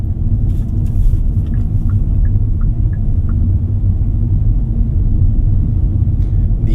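Low, steady road rumble and tire noise fill the cabin of a Hyundai Stargazer X while driving, a constant drone with no voices.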